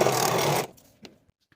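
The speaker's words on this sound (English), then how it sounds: "And then sew that gusset in place with a 1/4 inch seam allowance" A sewing machine stitches a leggings gusset seam in a loud, fast whirring run that stops after about half a second, followed by a few soft clicks and handling sounds.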